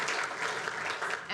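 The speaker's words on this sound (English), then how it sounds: "Give him a big round of applause." Audience applause at an evening talk at St Vincent's hospital, dense steady clapping filling the room for a moment.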